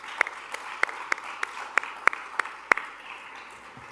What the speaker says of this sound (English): we want to give them a big applause for their dedication to raise Mochi.